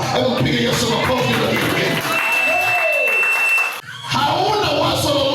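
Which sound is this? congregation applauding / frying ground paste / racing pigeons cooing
congregation applauding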